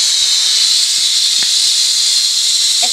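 Tomatoes added to hot spiced oil in a pan, a loud, steady high sizzling hiss that holds throughout at close range, with a few faint clicks beneath and no talking.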